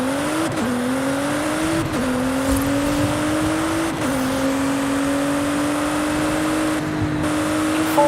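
Volkswagen Golf GTI in Forza Horizon 5, engine droning steadily with rising pitch through each gear and brief dips at shifts, loud and continuous with no talk.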